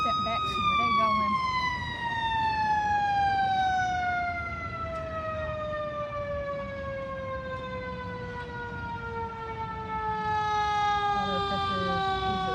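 A fire engine siren wails and slowly falls in pitch as it passes at a residential structure fire in Chester, PA, loud and sustained over steady background noise.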